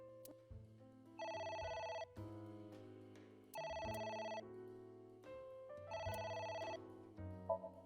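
A telephone rings in the video game AI: The Somnium Files, repeated electronic ring bursts in a steady pattern over layered game music, loud and clear.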